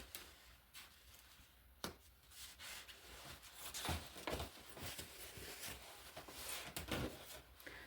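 Paintbrush strokes scrubbing chalk paint onto a porous cement and clay-sand garden frog, a soft, steady rubbing with repeated brushy swipes, close and fairly quiet, with no talking.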